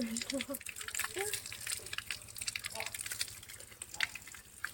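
Pure water pours from an old traditional village spring spout, making a continuous splashing gush close by, and a voice talks over it at the start.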